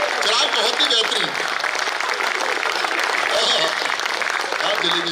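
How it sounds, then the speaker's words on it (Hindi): Loud, sustained audience applause fills the whole stretch, with crowd voices mixed in beneath the clapping. "भाई एक बार जोरदार तालियां"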